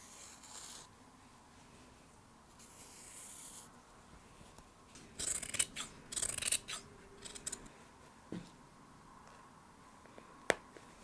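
Scissors cut through small fabric scraps in short close snips and rustles, with scattered crisp clicks in a quiet room and a couple of brief louder snaps near the end.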